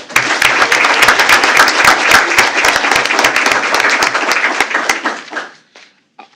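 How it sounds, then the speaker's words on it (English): A big round of applause from the audience at a school board of trustees meeting, loud and dense with sharp claps, holding steady for about five seconds before thinning to a few last claps and fading out. "Big round of applause, Ms. Jackie Barrett."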